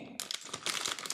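Cellophane wrapping from a LEGO City F1 Williams set crinkles up close, a brief run of dense, crackly rustling that starts after a short quiet moment and keeps on without pause.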